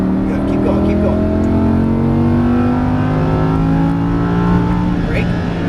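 A Lamborghini Huracan LP610-4 accelerates hard on a racetrack, its engine note climbing steadily in a loud, close, continuous roar, with no voices over it.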